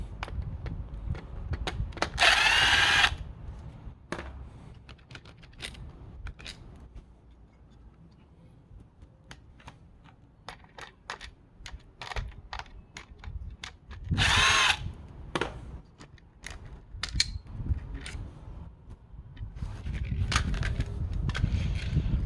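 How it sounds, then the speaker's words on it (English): A power drill or screwdriver backs out the screws holding the steering wheel controls on a Ford Territory SZ or Falcon FG, with two loud whirring bursts near the start and around the middle amid quieter handling clatter. "So just go ahead and remove these 4 screws."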